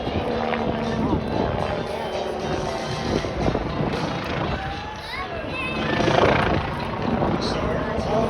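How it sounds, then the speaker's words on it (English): An MBB Bo 105 helicopter's turbine whine and rotor noise drone steadily nearby while voices talk over it, at an air show. "So Aaron's helicopter is an MBV-105. It was designed primarily for the German Army."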